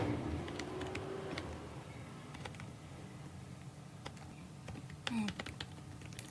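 Typing on a computer keyboard, a series of light, irregular key clicks that stay faint under a steady room hum, with a brief louder burst near the end.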